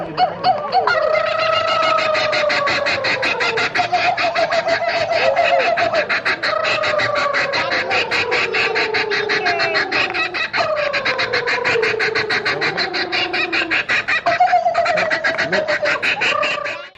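A bird at a falconry and hunting farm keeps up a loud, continuous, silly laughing call, repeated descending cackling phrases rolling one after another at close range.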